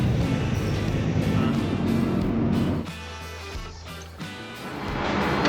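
Steady engine drone and road rumble inside a moving city bus in Tallinn, loud and continuous, dipping briefly as the bus slows before building again.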